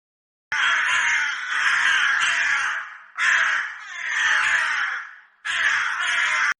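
Cartoon crow cawing in a sung, drawn-out way, three long loud bursts separated by short gaps, close and alone with no talk.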